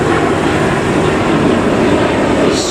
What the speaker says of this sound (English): there's an airplane taking off